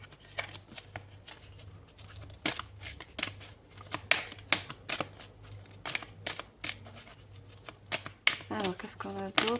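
Oracle cards are shuffled and slapped in quick bursts of crisp papery riffles and flicks, close and fairly loud, while someone speaks between the bursts.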